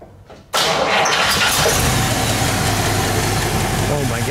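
A 1949 Cadillac Series 62 convertible's engine cranks and catches abruptly, then settles into a smooth, steady idle, loud and close indoors, with faint voices at the start.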